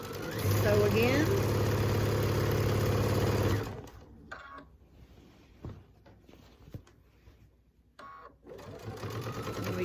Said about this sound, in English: We're going to turn it, sew again.